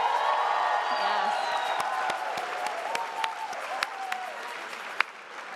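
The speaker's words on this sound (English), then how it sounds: "Fellows, please give our IREX team a round of applause" An audience of fellows at a congressional forum applauds the IREX team, a steady wash of clapping that carries on throughout with some scattered sharper claps, while a voice talks over it.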